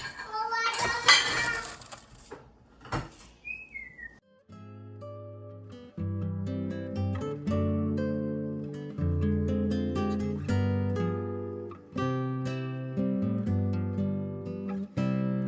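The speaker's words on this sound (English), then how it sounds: "11-year-old's doing a great job putting the dishes away." An 11-year-old puts dishes away in a home kitchen, with a jumble of clanks and clinks at first and brief child chatter, then steady ringing clatters of dishes and cutlery that come up again and again, close by.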